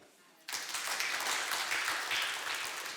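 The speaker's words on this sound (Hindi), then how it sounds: "प्रभु के लिए ताली।" Applause for the Lord breaks out from a congregation at a church service, starting abruptly after near silence and continuing as dense, steady clapping that stays loud to the end.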